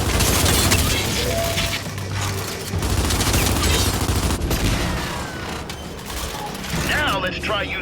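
Rapid gunfire bursts from a video game shootout, dense mechanical clatter and repeated shots layered with game sound effects and occasional talk throughout.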